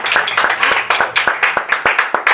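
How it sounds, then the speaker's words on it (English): A small group claps for artists at a healing and art gathering, close and loud, with distinct, fairly regular hand claps in a quick rhythm and no talk over it. "I think you should give all these artists another warm round of applause"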